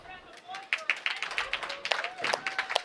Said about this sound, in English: Bowling fans, let's give a nice round of applause for our title match.